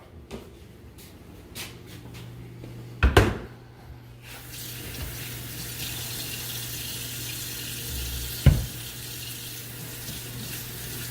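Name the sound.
washing Graco spray gun filter with warm soapy water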